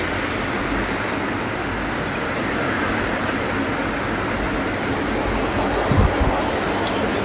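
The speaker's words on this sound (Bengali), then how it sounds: "বৃষ্টিটা এইরকম ভাবে পড়ছে এইরকম করে পড়ছে" Heavy monsoon rain pours down steadily outside a poor household during the rainy season, a dense, constant broadband roar with no pauses, loud and close throughout, with a brief dull knock near the end.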